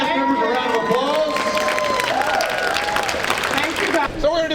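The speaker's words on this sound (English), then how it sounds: "Please give these cast members a round of applause." An audience at a Los Angeles comic convention panel applauds and cheers the cast of Stan Lee's Who Wants to be a Superhero, a sustained crowd roar with voices talking over it throughout.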